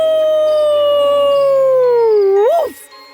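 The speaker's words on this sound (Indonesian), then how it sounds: "Dia melolong ke bulan seperti serigala sungguhan untuk pertama kali dalam hidupnya." A single long wolf howl rings out loud and alone, holding a steady pitch before sliding down, rising sharply at the end and then cutting off.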